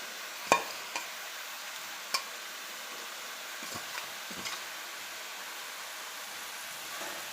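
Spinach and spices being stirred with a spatula in a pan along with potato and eggplant, giving a few faint metallic knocks and scrapes over a soft, steady frying hiss.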